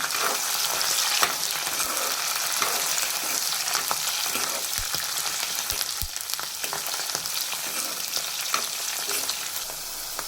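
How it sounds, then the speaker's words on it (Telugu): Oil crackles and sizzles steadily as fresh curry leaves fry in a tempering pan for spinach dal, a dense continuous spitting with occasional sharper pops and stirring clicks. "మనకు పోపు అయితే ఈ విధంగా వేగిపోయింది కదా"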